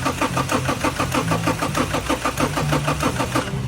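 Car engine cranking repeatedly without catching, a steady rhythmic starter churn close by, just after a steering lock was fitted; the fast even pulses continue throughout with no firing.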